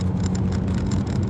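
A truck towing a trailer pulls away with a tractor in a Houston HOV lane, its engine rumbling steadily up close under a constant low drone with no voices.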